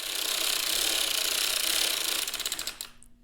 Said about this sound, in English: So I'm going to crank a few rows and just see how the tension looks